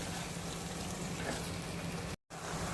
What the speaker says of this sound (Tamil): ஒரு உலக்கு அரிசிக்கு ரெண்டு உலக்கு தண்ணி அளந்து வச்சுருக்கேன் ஊற்றிக்கலாம்